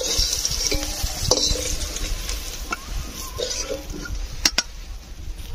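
Bitter gourd fries in oil with a steady, moderate sizzle, broken by occasional spatula stirs and a couple of sharp metallic clinks near the end.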